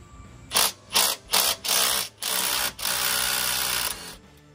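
A ratchet wrench loosens 18 mm shock bolts during a lift kit install: several short bursts of rapid clicking, then a longer continuous ratcheting run, close and fairly loud.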